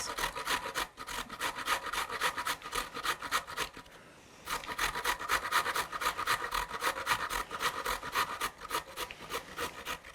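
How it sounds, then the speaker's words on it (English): Carrots being grated on a grater in a home kitchen, a steady rapid rasping scrape repeated in quick strokes, close and loud, with one brief pause partway through. "we have moved on to grating our carrots."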